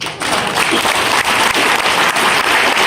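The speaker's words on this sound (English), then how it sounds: "Give a round of applause, please." An audience at a JFK conference talk bursts into loud, close applause, dense overlapping clapping that stays strong for the full few seconds.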